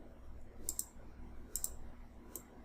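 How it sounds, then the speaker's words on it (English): Computer mouse button clicks, three short crisp pairs of clicks spaced apart, close and quiet over faint room hum with no talking. "I'm going to right click on this one"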